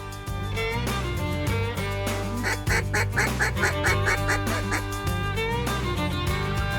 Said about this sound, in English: Watch this pintail right here on my corner though.